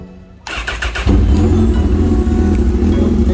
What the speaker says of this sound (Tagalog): ang CB1000R inline 4 1000cc. Soundcheck natin, naka Austin Racing slip-on.